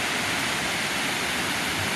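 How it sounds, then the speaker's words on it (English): A waterfall along the Appalachian Trail, with water tumbling down over a bed of rocks in a steady, dense broadband rush that stays loud and unbroken throughout, with no voices. "There's a waterfall"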